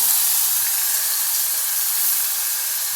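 Moong dal and cluster beans with a pinch of asafoetida sizzle in hot oil in a pan, making a steady, even hiss that carries on without a break.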